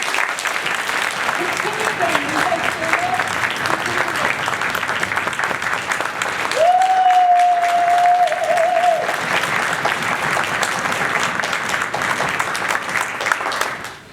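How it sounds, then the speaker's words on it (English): An audience at a lower school band and orchestra concert applauds the young players with steady, dense clapping that carries on for the whole stretch, while a brief tonal sound rises in the middle. "Can you give them a huge round of applause?"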